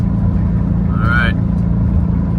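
Steady low rumble of a van driving on a road near the California-Oregon border in the Klamath area, continuous engine and road noise throughout with a brief higher whine partway through.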